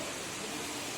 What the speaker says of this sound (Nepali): गुफाभित्र झरना रहेछ